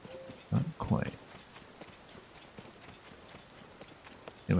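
Horse hooves clip-clop in the video game Tears of the Kingdom, two short bursts of steps early and one at the end, moderately close over quiet game ambience.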